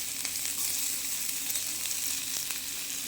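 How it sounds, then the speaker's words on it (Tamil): Small shallots sizzle steadily in hot oil over tempered mustard seeds, a dense, continuous frying hiss with faint stirring, close and alone without voices. "இப்போ இந்த சின்ன வெங்காயம் கொஞ்சம் கட் பண்ணி வச்சுருக்கேன் இதையும் போட்டு வதக்கிக்கலாம்"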